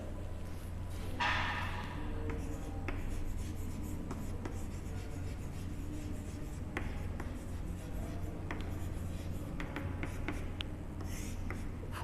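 Chalk scratches and taps across a classroom board in a tenth-grade science lecture on chemical reactions, a steady run of short strokes over low room hum.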